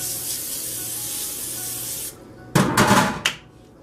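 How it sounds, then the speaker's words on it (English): A steady hiss of an aerosol cooking oil spray onto a pan plays for about two seconds, then stops; after a pause, two shorter, louder bursts of spray follow. "spray it onto my pan so the meat doesn't stick to the bottom"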